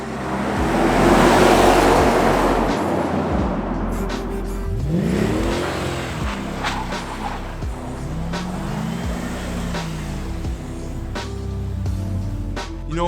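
A Mercedes CLK500 with an upgraded exhaust revs repeatedly, its engine note rising and falling in loud, close sweeps over a steady rumble.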